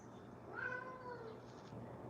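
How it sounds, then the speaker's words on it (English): A cat gives a single drawn-out meow, faint and distant, heard outdoors through an open window on a rainy day. "That's a cat."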